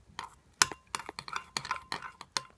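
Glitter slime mixture stirred in a bowl, producing a rapid series of irregular clinking scrapes of a utensil against the bowl, fairly close, with no talk.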